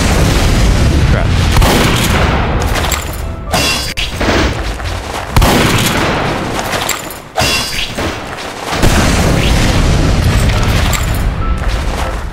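Rocket blasts in Team Fortress 2, heavy booming explosions hitting in a loose series with short gaps between them, loud and close, each followed by a rumbling decay.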